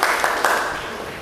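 Brief classroom applause for a student, a short burst of clapping from a group of pupils that fades quickly.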